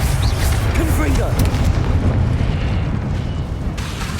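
An explosive spell blast in Hogwarts Legacy on Xbox Series X, a loud sustained booming rumble that fills the clip and slowly tails off, with a voice briefly audible over it.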